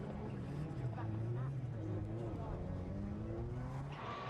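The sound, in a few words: rallycross car, Subaru Impreza, losing traction and skidding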